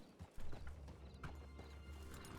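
Horse hooves clip-clop close by with a brief whinny in Red Dead Redemption 2, steady hoofbeats over a low rumbling game ambience.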